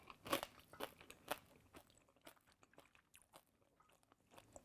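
Close, crisp crunches from biting into crispy pork belly, a few loud bites followed by softer chewing crackles.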